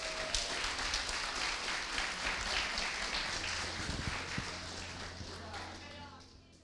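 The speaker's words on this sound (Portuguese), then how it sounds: "Vamos aplaudir a Lilian, meus irmãos." A church congregation applauds in steady, moderately loud clapping that slowly tapers off toward the end, with some voices mixed in underneath.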